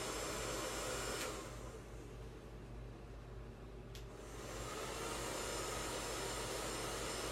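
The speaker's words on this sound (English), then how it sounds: "And massaging with the diffuser." Hair dryer fitted with a diffuser, drying curly hair: a loud, steady close blowing roar that dips slightly midway as the airflow shifts, then builds back up, with no talking.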